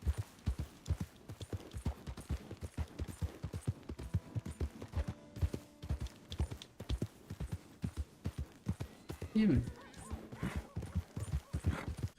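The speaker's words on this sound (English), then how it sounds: "Bom, pelo menos tem um cavalo para mim." Horse hooves clip-clopping at a steady trot in Red Dead Redemption 2, with a short neigh partway through. The rhythm is regular and fairly close, over faint game ambience.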